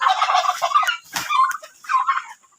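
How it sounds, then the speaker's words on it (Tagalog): Chickens in a backyard poultry pen cluck in busy, overlapping bursts, fairly close, with a short pause near the middle and no speech. "Ang daming manok."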